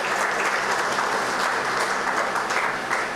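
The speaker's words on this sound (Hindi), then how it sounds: "हमारे बीच में जोरदार तालियों से क्लैप किया जाए" Loud, sustained applause from an audience at an awards function, continuous dense clapping filling the whole moment without a break.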